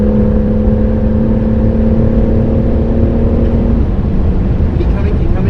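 A race car engine drones loudly and steadily at Goodwood, with a sustained tonal whine that drops away near the end as the throttle changes, while a co-driver's voice talks over it.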